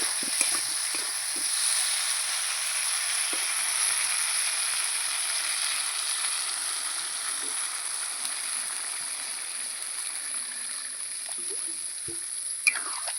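Water poured into hot fried masala for a pumpkin and hilsa fish curry, raising a loud, steady hissing sizzle that holds evenly throughout, with a faint clink near the end.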